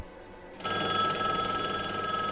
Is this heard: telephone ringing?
yes